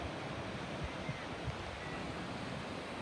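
North Sea waves wash onto the shore at Whitby, England, a steady wide rush of surf mixed with wind buffeting the microphone, with a few soft thumps and no voices.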